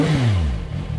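A CFMOTO 675 SS motorcycle with a Yoshimura exhaust revs loud and close, the engine note climbing and then falling back to a rough, burbling idle.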